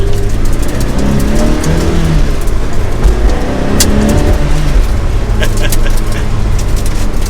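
A Ferrari 360 Challenge Stradale engine under way, a loud, close, raspy drone with rising and falling revs and gear changes, with someone talking over it throughout.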